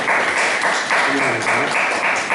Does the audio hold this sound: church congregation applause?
yes